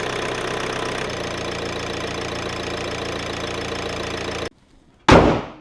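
A cheap Toyota car bought at auction in Norway idles just after an oil and oil-filter change with a steady ticking, knocking rhythm, then cuts to near silence before a sudden loud burst of noise.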